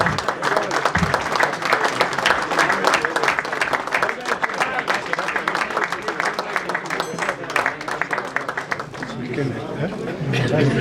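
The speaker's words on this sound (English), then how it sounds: "he deserves an enormous round of applause" Loud, sustained applause from the audience at a Kenyan cricketers' reunion dinner for the 1950–1980 era, thick clapping with crowd chatter and voices mixed underneath, holding steady for about ten seconds before thinning slightly.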